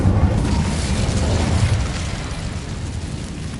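The Incendio fire spell going off in the Hogwarts Legacy video game, a loud, deep whooshing burst of flame that roars at once and then slowly fades, heard on its own.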